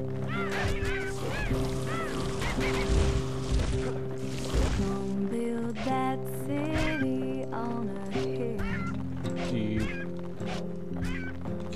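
Birds in the Bastion video game give repeated honking, quacking calls over a layered tonal music bed, busy and overlapping throughout.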